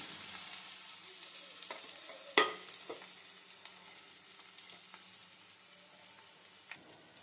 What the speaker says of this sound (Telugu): మనము దీంట్లో మనం కట్ చేసి పెట్టుకున్న బంగాళదుంప ముక్కల్ని వేసుకుందాం